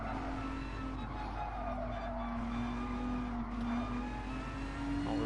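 A Volkswagen race car in GT Sport drones under load with a steady engine note that slowly climbs in pitch as it accelerates, heard alone at a moderate level.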